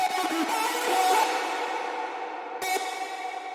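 A wash of washed-out synth sound smeared by a heavy, lingering reverb tail with no peak-controller ducking, staying loud and dense, slowly fading with a brief accent near the end.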